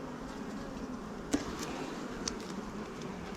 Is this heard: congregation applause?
no